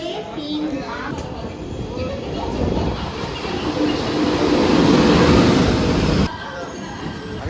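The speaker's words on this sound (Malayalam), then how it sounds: "ട്രെയിന് വരുന്നുണ്ട് കേട്ടോ." A train pulls into a busy Kerala railway station at Chengannur, its low rumble and rolling clatter swelling steadily louder before cutting off, with crowd noise around the platform.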